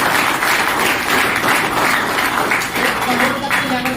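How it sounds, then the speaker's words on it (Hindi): Sustained applause from a large audience at a business closing meeting in India, dense steady clapping filling the whole stretch with some voices mixed in. "जोरदार तालियां होना चाहिए।"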